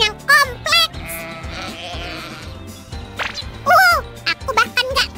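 Sheep bleat loudly and repeatedly in wavering cries close by, with jingling bell-like tinkles and a voice talking between the calls.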